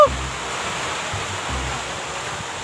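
Strong rushing water pours in a loud, steady broadband roar that holds throughout, with a brief sharper splash at the very start and low, indistinct voices rumbling faintly underneath.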